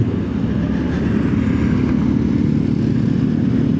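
A Yamaha Stylo scooter engine hums steadily while riding at night, a loud, continuous low drone with road and wind rush and no talking.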